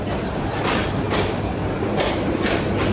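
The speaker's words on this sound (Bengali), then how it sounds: "ভিআইপি ট্রেন আইসা পড়ছে।" A VIP passenger train pulls in with a loud, steady rumble and rhythmic clickety-clack wheel bursts roughly every half second, heard close by with no talking.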